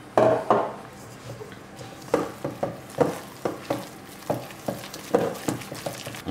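Crushed egg and tartare sauce ingredients are stirred together in a bowl, a series of irregular scraping and knocking strokes of a utensil against the container, fairly close, with no talking.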